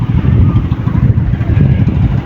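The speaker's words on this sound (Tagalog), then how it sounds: "Sinusubukan pong andarin ng kanyang makina" An engine is being started and runs with a loud, rough, rumbling mid-pitched chug, steady and close throughout, with no clear talk.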